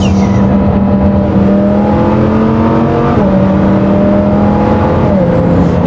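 A twin-turbo Lamborghini Huracan Performante engine drones loudly and steadily from inside the car, its pitch climbing in gradual steps as it pulls through gears, with no talking.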